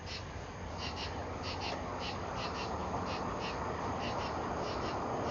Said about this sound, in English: These birds be loud up in these trees.